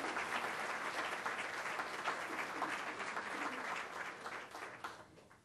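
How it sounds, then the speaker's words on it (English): A warm round of audience applause welcoming a keynote speaker at an awards event, dense steady clapping that fades out over the final second. "I'd like at this time for you to welcome a warm round of applause for Miss Janet Wagner"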